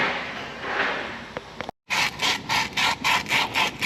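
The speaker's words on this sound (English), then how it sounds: "get some sandpaper and we'll clean that rust out of there so she'll pull out easier" Sandpaper scrubbing rust off a hydraulic cylinder: broadband scraping strokes, a brief pause, then about seven rhythmic back-and-forth rubs, close and fairly loud.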